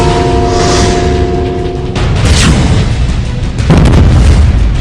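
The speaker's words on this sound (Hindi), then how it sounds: "पहला धमाका" A heavy boom bursts out over a low rumble in Budgam, Kashmir, followed moments later by another loud blast, both thundering and close.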